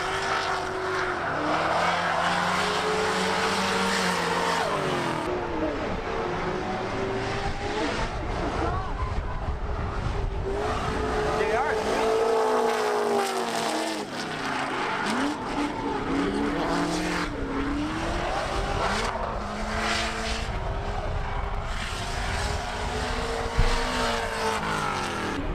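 Formula D pro-am drift cars, including a Camaro, battle at Lone Star Drift Round 4 with engines roaring and tires squealing in long sweeping passes under continuous commentary.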